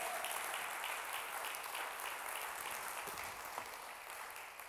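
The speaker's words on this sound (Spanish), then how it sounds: "denles aplauso como quiera, fuerte al Señor" A church congregation claps loudly and continuously during a Spanish-language worship service, a dense sustained wall of hands that tapers slightly toward the end.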